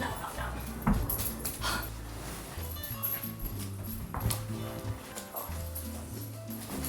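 A puppy indoors in a guest room whimpers softly and shuffles about, with scattered light paw taps and faint movement noises at low level.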